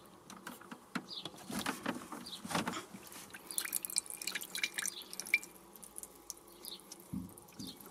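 Water collected from a Lidl Silvercrest Tristar 7000 BTU portable air conditioner, dripping and trickling into a container: faint scattered drips and small splashes, close and irregular, over a quiet background.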